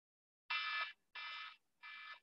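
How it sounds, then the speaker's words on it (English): A workout interval timer at a boot camp fitness class sounds three long, evenly spaced electronic beeps, each about a third of a second, clear and alone against silence. "Till that timer goes off, 5 seconds."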